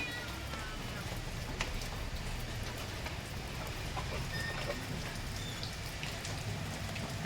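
Rain falls steadily outdoors, a faint continuous patter of drops across the whole stretch with no clear voices above it.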